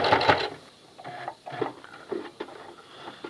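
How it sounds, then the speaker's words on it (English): A sewing machine joins strap pieces for an axe sling, producing faint, irregular clicking and ticking stitches at close range with no voices. "I'm going to sew this to this other piece that goes around to the back side"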